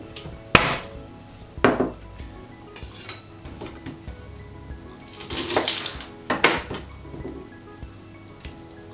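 Dishes clatter as a bowl is taken out in a home kitchen, with a few sharp knocks of ceramic and clinks spread across the moment, fairly close and with no talking.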